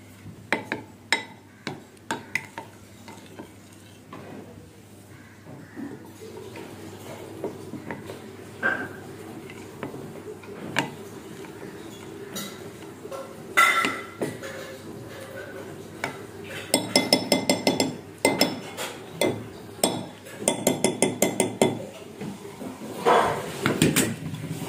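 Homemade blue gulaal powder being mixed in a dish, with repeated clinks and scrapes of a utensil against the dish, bursts of rapid clattering mid-clip and toward the end, close and fairly loud, no talk.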